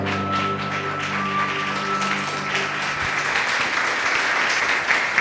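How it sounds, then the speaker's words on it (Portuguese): A church congregation claps together in praise during a Portuguese-language sermon, a dense steady patter of many hands sustained over organ-like held tones, continuous and fairly loud throughout. "Louve ao Senhor com suas palmas."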